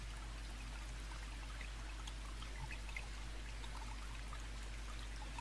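Soft, steady water falling like a curtain in a calm meditation soundscape, a faint continuous trickle and patter with scattered droplets, quiet and unbroken throughout.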